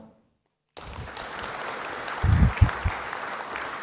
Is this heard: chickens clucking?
no